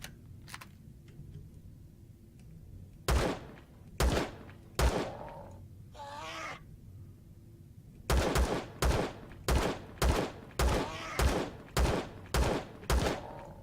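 Gunfire at a creature in the Empyrion survival video game: loud evenly spaced single shots, a few early then a rapid run of about nine, with a brief creature-like noise between.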